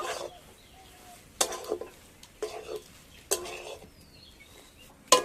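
Bottle gourd dough being stirred in a pan: a spoon scraping and clinking against the metal in short bursts roughly once a second, close and moderately loud, with faint sizzling between strokes.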